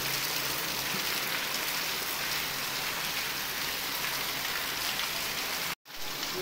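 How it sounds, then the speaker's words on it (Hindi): Steady rain falls during the rainy season, a dense, even hiss of drops on surfaces that runs unbroken and fairly close before cutting out for a brief instant near the end. "बारिश के मौसम में बड़ा खतरनाक लग रहा है यार अम्बिका।"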